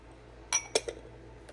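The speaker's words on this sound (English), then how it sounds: "And then just mix that all together." Blueberries, yogurt, honey and lemon are mixed in a bowl, heard as three quick, close spoon clinks against the bowl in a quiet room.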